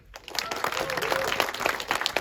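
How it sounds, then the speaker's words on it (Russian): An audience applauds in a cinema hall at a film premiere, building into sustained dense clapping with some crowd voices underneath. "И бурно хлопаем, хорошо?"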